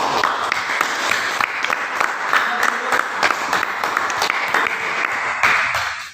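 Classroom students in Indonesia clap in enthusiastic applause, a crisp uneven patter of many hands with sharp individual claps standing out, sustained for several seconds before tapering off at the end.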